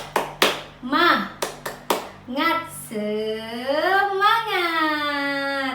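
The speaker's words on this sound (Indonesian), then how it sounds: "setelah kita bertepuk semangat" Children doing the rhythmic 'tepuk semangat' clap in an elementary classroom: a few sharp clap bursts in a pattern, mixed with children's chanting voices that rise into a sustained group call.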